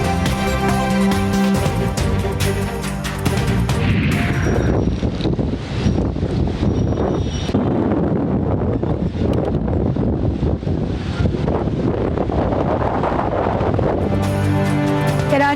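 Strong winds in Karachi batter the microphone with loud, continuous roaring gusts and rumble, rising and falling over the stretch, with a tonal musical sting at the start and end.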